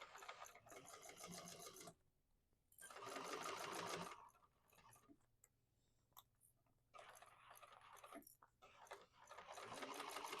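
A sewing machine runs in steady bursts while basting down the sides of a bag, with pauses between runs and a faint hum in the quiet gaps.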